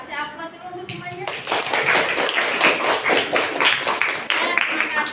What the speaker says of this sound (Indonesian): Kasih aplaus dulu untuk temannya.